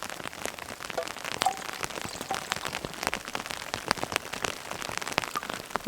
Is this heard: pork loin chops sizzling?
no